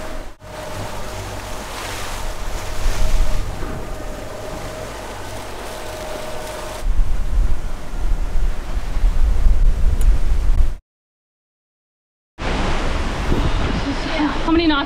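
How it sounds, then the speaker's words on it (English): Loud wind roars across the mic while waves rumble and slosh around a boat at sea in an approaching squall, broken by a short gap of silence. "There's a lot of wind."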